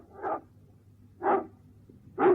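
Three separate dog barks ring out about a second apart, each a short, mid-pitched woof at moderate distance over a quiet low hum, with no talking.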